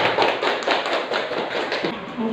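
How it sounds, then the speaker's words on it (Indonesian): Classroom of children clapping together, a steady rapid patter of many hands close by, filling the whole moment with only faint voices mixed in. "Kasih tepuk tangan ya."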